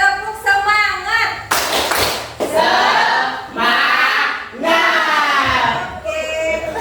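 A class of eighth-grade students in an Indonesian classroom performs a rhythmic group spirit clap, sharp bursts of clapping mixed with loud chanted voices and shouts, repeated in short phrases.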